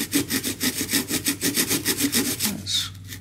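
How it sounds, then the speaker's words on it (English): A razor saw cuts through a hinge on the rudder of an RC Extra 300 model plane, giving about a dozen quick, even back-and-forth rasping strokes close up, followed by a short pause. "the next thing we need is a razor saw"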